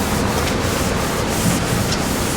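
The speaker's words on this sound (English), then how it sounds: "It needs a scrub, that is for sure." Close, loud scrubbing on the grimy body of a 1991 Honda Civic hatchback, a dense continuous rubbing with faint rhythmic strokes, heard alone without talk.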